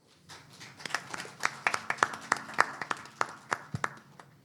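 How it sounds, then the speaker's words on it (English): Applause at a press conference on religious freedom, a small scattering of hands clapping in quick separate claps, fairly quiet and sparse, rising and then fading over a few seconds. "Please give him big applause."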